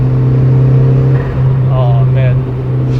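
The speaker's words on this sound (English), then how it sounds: "The wastegate is not that loud, but the blow-off is loud." A boosted Suzuki Swift Sport ZC31S engine hums steadily and loud from inside the car, with a faint whistling turbo and blow-off hiss rising briefly near the end.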